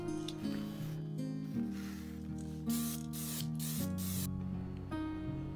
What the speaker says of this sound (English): And now here I'm just adding a top clear coat and a matte spray.